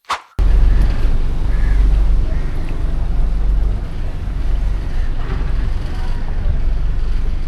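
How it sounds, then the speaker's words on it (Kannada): A houseboat cruising the Kerala backwaters gives off a steady, loud low rumble of engine and moving water, with wind buffeting the microphone throughout. "ನಮ್ಮ ಬೋಟ್ ಮೂವ್ ಆಗ್ತಿದೆ"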